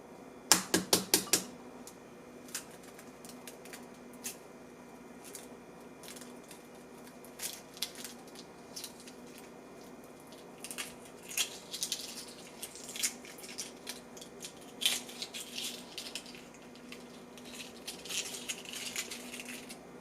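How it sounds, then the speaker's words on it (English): Shells crack and crinkle off hard-boiled eggs made in an Instant Pot. A quick burst of sharp taps opens, then soft intermittent crackling and peeling clicks follow, quiet and close. "now I can peel the eggs"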